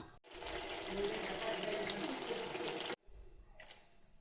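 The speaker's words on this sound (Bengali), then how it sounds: "ঝুলের জন্য জল দিয়ে দেব বেশি দেব না একটু মাখো মাখো টাইপের হবে এই যে দিয়ে দিলাম" Water pours steadily and loudly into a pot of rui fish curry with mustard greens, a continuous rushing splash that stops abruptly and is followed by a quieter, thinner trickle.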